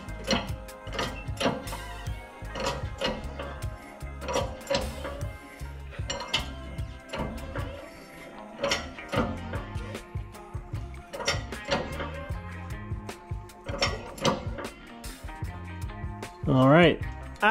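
A hand-pumped press pushing a crank web onto a crankshaft during a KRASH KV997 crank rebuild, with repeated metallic clanks and clicks at an uneven pumping rhythm, close by, plus a brief rising squeal near the end.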